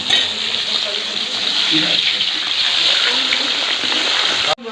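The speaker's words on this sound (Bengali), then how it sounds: "বিরিয়ানির মাংসটাকে আমরা ভেজে নিচ্ছি" Large pieces of biryani meat fry in a pan with a loud, steady, rain-like sizzle close up, continuous throughout and ending with an abrupt cut.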